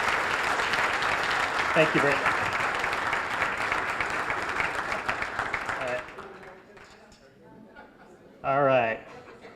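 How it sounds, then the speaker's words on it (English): A civic audience at a state-of-the-cities event applauds the mayor in a dense, steady round of clapping that fades out after about six seconds, with a few voices and a short spoken thanks near the end. "Can we give a round of applause to the mayor?"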